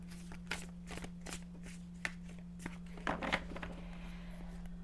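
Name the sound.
shuffling tarot cards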